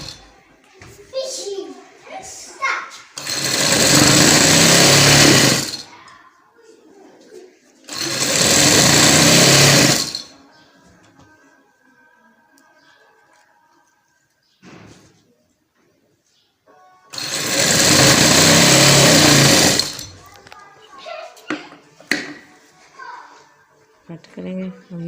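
A sewing machine stitches lace onto trousers in three loud, steady whirring runs of a few seconds each, with quieter handling and talking between them.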